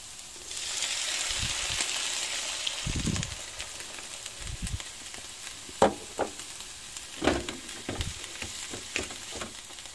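Onions cooking in a pan with added water for a compote, a steady close bubbling sizzle broken by several soft stirring knocks and scrapes.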